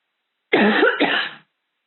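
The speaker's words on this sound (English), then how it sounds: "My tick went off and I started coughing." A close, harsh double cough, two rough bursts in quick succession lasting about a second, alone against silence.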